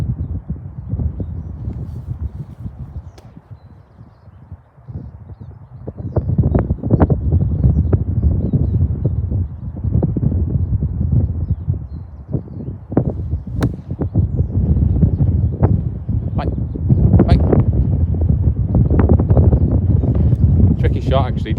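Gale-force wind buffeting outdoors on a golf course, a constant loud low rumble with gusty pulses and knocking throughout.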